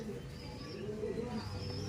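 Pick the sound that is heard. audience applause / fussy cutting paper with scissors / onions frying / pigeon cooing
pigeon cooing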